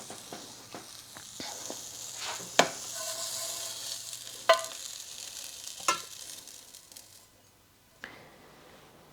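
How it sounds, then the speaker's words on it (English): Sautéed vegetables scraped and lifted out of a pan into a separate dish, with scattered utensil knocks and clinks over a fading sizzle, close and fairly quiet. "now we're going to remove these vegetables so they don't cook any further to a separate dish"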